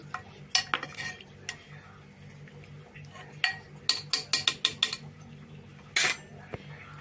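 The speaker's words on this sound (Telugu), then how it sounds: "ఇది తోటకూర పులుసుని దాంట్లో తాలింపులో వేసేద్దాం" Amaranth tamarind stew is poured into a tempering pan and stirred, giving scattered metallic clinks and scrapes of a spoon against the pot, with a quiet stretch before a quick run of sharp taps.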